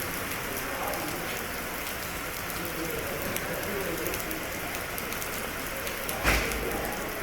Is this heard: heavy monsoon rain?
yes